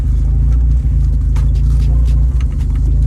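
A Mazda Miata drift car sits running with a loud, steady low engine rumble close by, unbroken for the whole stretch with a slight uneven pulse and no talk over it.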